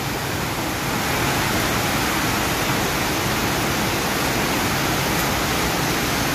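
A loud, continuous rush of water roars without pause, dense and broadband, from a small creek flooding close by after heavy rain.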